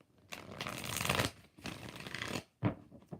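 Tarot cards riffled in three bursts, two long shuffles followed by a short snap, close and crisp with no voices.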